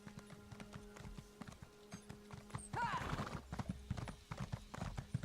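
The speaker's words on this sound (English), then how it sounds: "Trying to summon the horse." A summoned horse in The Elder Scrolls Online clip-clops in a steady rhythmic patter of hooves, with a whinny partway through, while a voice talks over it.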